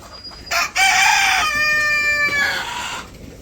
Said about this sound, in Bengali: তো মুরগিরে খাবার দিতে আসছে